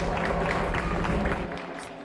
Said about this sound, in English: Now you can hear clapping from the community members